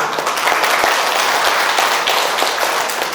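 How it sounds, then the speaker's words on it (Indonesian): A congregation at a church thanksgiving Mass applauds with dense, steady clapping from many hands that fills the whole stretch, close and loud. "Kita aplaus untuk kita semua."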